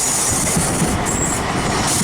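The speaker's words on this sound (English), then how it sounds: "Tram on the Stargate there." A Blackpool tram rolls past on its rails along the Illuminations, a loud, steady rumble of wheels with faint squealing and no talk.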